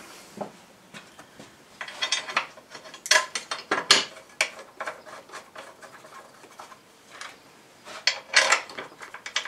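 A hand ratchet working on bolts of a Triumph Tiger motorcycle in a home garage, bursts of rapid clicking close up with short pauses and no talking.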